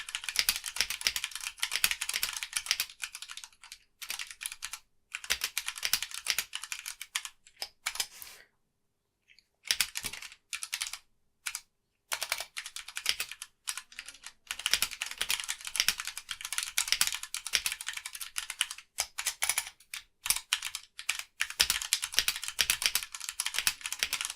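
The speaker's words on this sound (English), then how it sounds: "Let's do a typing test." Rapid, continuous clacking of a Vortex Pok3r RGB 60% mechanical keyboard with brown switches being typed on, steady bursts of keystrokes with a few short pauses, close and fairly crisp.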